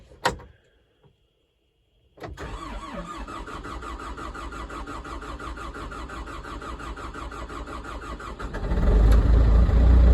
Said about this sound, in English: I don't know why it cranks over for so long.